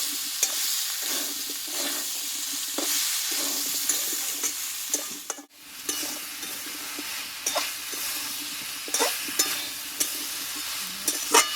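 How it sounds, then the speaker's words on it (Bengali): Potatoes with pumpkin being stir-fried in a pan, a steady close sizzle and hiss broken by repeated scraping stirs and clinks of a spatula, with one brief dip partway through, no talking. "এইবার এখানে দেবো আমি কষে রাখা আলুটা আমি আরও কিছুক্ষণ মতো কষিয়ে নেব"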